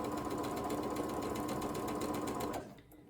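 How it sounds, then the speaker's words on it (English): Sewing machine running steadily while stitching along a drawn diagonal line, a close, fast, even mechanical whir that stops abruptly near the end. "I'm still sewing on that drawn line"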